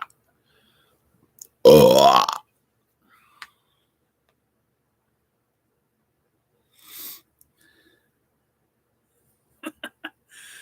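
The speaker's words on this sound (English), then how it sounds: "I've been burping ever since" A person lets out one loud, drawn-out burp in a quiet room, lasting under a second, followed by a few faint clicks and small sounds.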